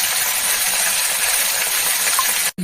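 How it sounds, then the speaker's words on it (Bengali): Pieces of katla fish fry in hot oil over a lowered gas flame, giving a dense, loud, continuous hissing sizzle that cuts out abruptly near the end. "গ্যাসটা কমে দিলাম, আস্তে আস্তে ভাজা হোক।"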